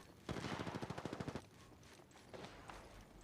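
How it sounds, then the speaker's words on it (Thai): Automatic gunfire in the battle royale game Apex Legends: a rapid burst of about a dozen close, loud shots, followed by quieter distant shooting a moment later. "เฮ้ยเสียงปืนเสียงปืน"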